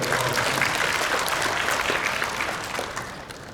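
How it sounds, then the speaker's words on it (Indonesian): Audience clapping for a professor at a university leaders' working meeting in Indonesia, a sustained burst of applause from a seated crowd that gradually fades toward the end. "kita beri tepuk tangan bagi Profesor Dr."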